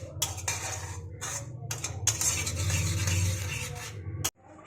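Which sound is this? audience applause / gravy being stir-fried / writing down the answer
gravy being stir-fried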